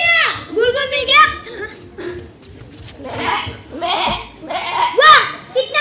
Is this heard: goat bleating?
yes